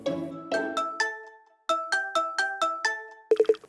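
A video call ringtone chimes out a bright melodic sequence of clear, bell-like tones with a short pause partway through, ending in a quick burst of rapid notes.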